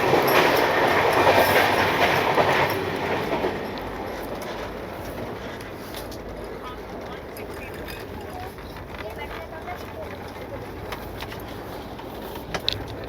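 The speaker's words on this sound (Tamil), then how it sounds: "பயங்கர ஸ்பீடாக போய்ட்டுருக்கு ட்ரெயின்." Fast train rumbling along the tracks, a steady loud roar with rhythmic rattling heard from inside an AC 2-tier carriage, with voices talking over it.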